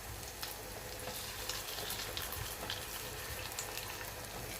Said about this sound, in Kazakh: Енді қазір кішкене май құйып табаға оны екі жақтан қуырып аламыз.